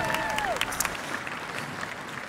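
At an outdoor love-song concert in Đà Lạt, a crowd applauds a songwriter with steady clapping, a few louder claps, and a brief whistle-like tone at the start.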